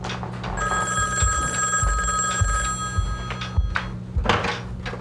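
Old telephone bell rings in a bright metallic trill, sustained over several seconds, with a few dull thuds beneath it and no talking.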